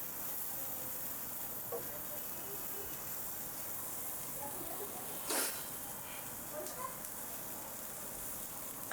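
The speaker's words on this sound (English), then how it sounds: "One is the onion. Let us saute it" Chopped onion sautéing lightly in a pan with only a little oil, a steady soft sizzle and hiss running throughout with one brief louder crackle partway through.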